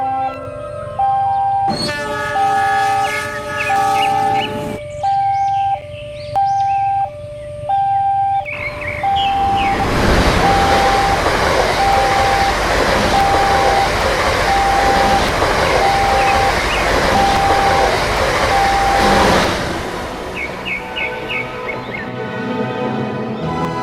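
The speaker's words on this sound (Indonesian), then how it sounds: "di depan ada perlintasan kereta api yang nampaknya berbunyi" A railway crossing bell clangs in a steady rhythm while a train horn sounds and a train roars past close by for about ten seconds. The bell keeps ringing after the train has gone.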